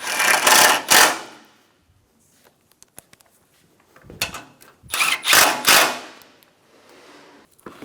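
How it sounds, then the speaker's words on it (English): Bolts being driven on a 2013-2017 Honda Accord bumper, two loud bursts of a power driver whirring in short rapid pulses, separated by a quiet stretch with faint clicks and taps, no talk. "Install the 10mm bolts."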